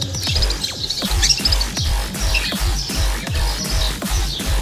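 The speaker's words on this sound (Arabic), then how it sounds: "دي كده كانت العصافير" Pet Australian rainbow birds chirping in a room, a busy run of short bright tweets and calls repeating close by throughout, with no talking.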